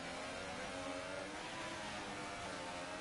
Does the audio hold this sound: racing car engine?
yes